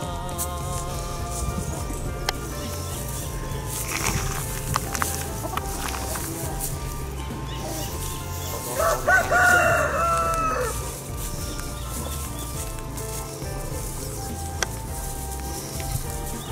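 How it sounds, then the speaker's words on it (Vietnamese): Fighting cocks kept on a watermelon farm in An Giang, Vietnam crow and cluck nearby, one clear crow standing out midway over a steady outdoor background. "Gà này là gà đá."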